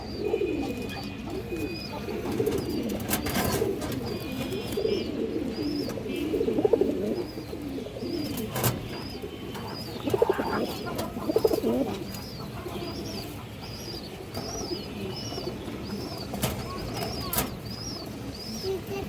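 Pigeons coo repeatedly in low throaty bursts, with some wing flaps and clatter nearby, while higher chirping birds sound in the background of a loft holding a Bezi pair and other fancy pigeon breeds.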